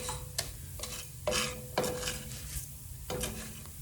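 Rice frying in a pan for chicken fried rice, crisping and turning brown, with a low steady sizzle broken by several distinct scrapes and stirring strokes of a utensil, close up and without talk.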